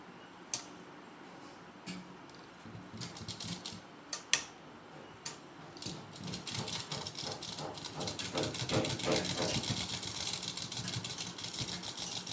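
A sewing machine stitching a kurta seam, starting with a few sharp isolated clicks and taps, then building into a steady, fairly close mechanical whirr with rapid ticking for the second half.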